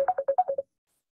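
A phone ringtone plays a quick run of seven bright, even electronic tones, each short and evenly spaced, then stops abruptly into silence.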